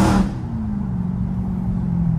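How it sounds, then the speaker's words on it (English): A Dodge Charger 392 Daytona spins its wheels without traction on a rainy night, a short loud burst then a sustained low engine drone and tire whir, heard from inside the car. "That's what no traction do for ya. We get to spinning."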